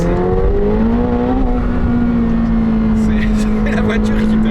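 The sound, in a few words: sports car engine accelerating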